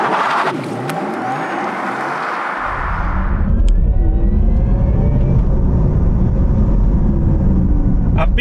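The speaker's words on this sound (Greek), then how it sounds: "απίστευτος ο ήχος, η μελωδία που βγάζει το αυτοκίνητο. Electric Sport Sound λέγεται" A Porsche Taycan electric car launching under launch control in Sport Plus mode with the Electric Sport Sound, a hiss giving way to a loud, rising synthetic whine and roar that holds steady as it accelerates.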